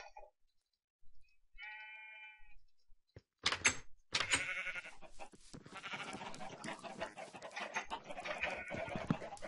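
After a couple of short electronic tones, a burst of Minecraft sheep bleating breaks out, several overlapping animal cries that continue loudly over busy game sounds.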